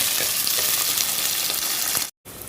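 Onion and curry leaves frying in a pan with oil, a dense continuous sizzle broken by soft scraping stirs, cutting briefly to silence near the end before resuming.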